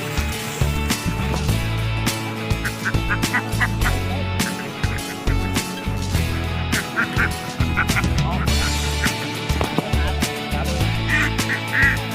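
A crowd of egg-laying ducks in a rice paddy quacks and honks continuously, loud and close, with overlapping calls and a person's voice briefly mixed in.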